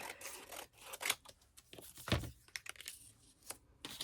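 Paper strip being cut for die crafting, a few sharp close snips and rustling crinkles spaced irregularly, quiet and alone.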